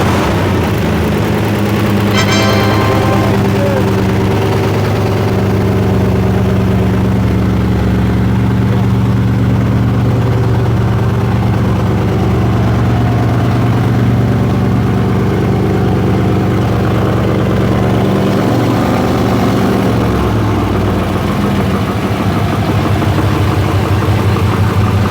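A freshly rebuilt Mercedes C63 AMG 507 M156 V8 fires up and settles into a loud, steady, deep idle that drones on without a break.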